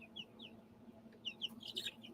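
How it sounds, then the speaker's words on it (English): A chicken clucking and chirping in short bursts, moderately close, over a low steady background hum with no talk. "Oh, that's not bad, the chicken."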